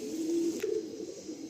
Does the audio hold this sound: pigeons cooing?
yes